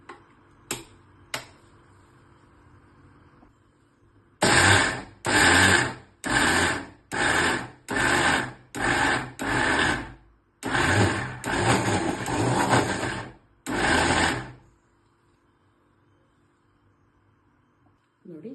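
A kitchen mixer grinder works urad dal batter for vada in a run of short, loud pulsed bursts, each under a second, separated by brief pauses and followed by quiet.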